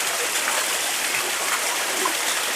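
A waterfall in thick forest near Tirupati, at Ramapuram, roars with a steady, dense hiss of falling water, continuous and fairly close throughout.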